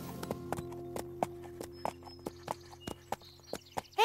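A horse's hooves clip-clop in a tight, regular rhythm as it turns in place in a pirouette, crisp and close, each strike distinct over a low steady hum.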